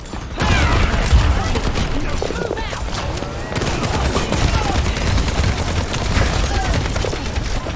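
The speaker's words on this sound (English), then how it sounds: "Rocket barrage incoming." Dense, continuous Overwatch 2 combat: a rocket barrage and sustained gunfire pound away in a loud, chaotic wall of overlapping blasts, rattling shots and mechanical clatter for the whole stretch.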